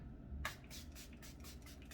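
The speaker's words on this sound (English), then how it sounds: "And I'm just gonna spray it on my face" Several quick hissing sprays of rose water from a pump bottle misted onto a face, soft and close, the first one sharper and the rest in a rapid uneven series.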